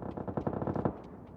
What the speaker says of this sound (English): Gunshots coming from southeast.